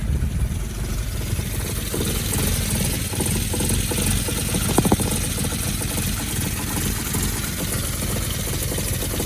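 A Mitsubishi Starion engine idles steadily after alternator and fuel system work, a close, continuous low mechanical drone with slight rhythmic knocking and no speech.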